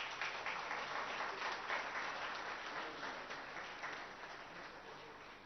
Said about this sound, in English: Let's welcome the Honorable Minister with a big round of applause.